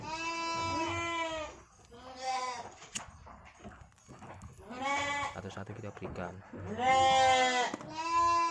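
Goats bleat loudly and repeatedly nearby while being fed homemade dry feed, their cries coming in separate bursts between a man's speech.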